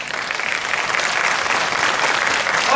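Students clap steadily as the audience at a university medal ceremony, dense, loud applause that holds the same level throughout.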